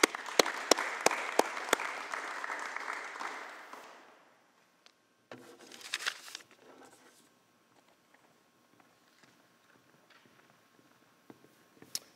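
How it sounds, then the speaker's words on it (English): Applause for an athlete's signing at a high school rings out with a few sharp nearby claps and fades within about four seconds, followed by scattered shuffling and small handling noises in a quiet room. "So a round of applause for Maui Nevis."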